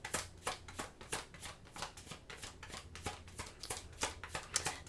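Tarot cards being shuffled by hand, a steady run of crisp, papery riffles and slaps repeating roughly every half second, close and fairly quiet with no talking.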